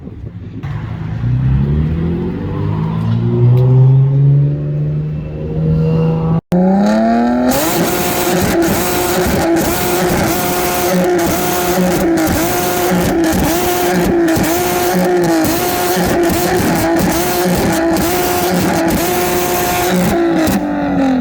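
A Nissan 370Z pulls away on a test drive, its engine revving loudly with a rising pitch for several seconds, then settling into a steady, close drone that holds to the end.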